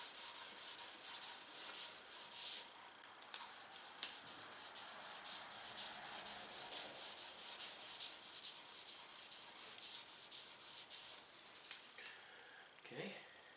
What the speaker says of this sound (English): You can kind of rub it in real hard. Bring it up a nice shine.